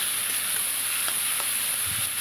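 Chopped tomato sizzles steadily in a hot pan with ginger, a continuous bright frying hiss with faint stirring clicks, close and unbroken, no talking.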